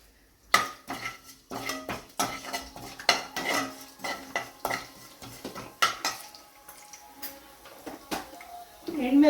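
Urad dal, cumin and mustard seeds fry in hot oil for a bottle gourd pickle, heard up close as a busy run of metallic spoon-on-pan clatter and stirring scrapes over a light sizzle.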